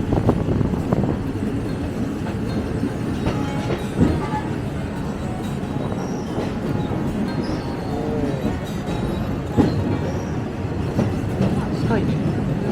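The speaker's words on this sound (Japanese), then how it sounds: "すごい電車がゆっくり走ってます。" A retro Thai State Railway train with open windows and doors rolls slowly along the Nam Tok Line, a continuous low rumble of wheels and carriages with occasional clunks, and voices can be heard over it.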